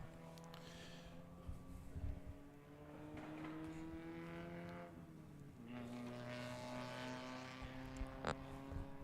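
Race cars in an AMP summer racing series event drive past a trackside microphone, a steady layered engine drone that rises and shifts in pitch as the cars pass, with faint voices in the background.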